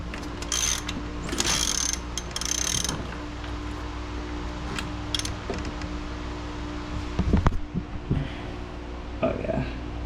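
Ratchet turning a C5 Corvette engine over against stiff dual valve springs, in bursts of rapid clicking with pauses between, close and loud, while people talk in the background.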